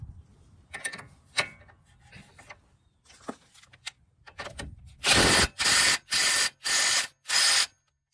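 Ratchet tightening a bolt during reassembly of a Nissan driver-side CV axle seal: five loud, evenly spaced bursts of clicking near the end, after scattered softer metallic handling noises.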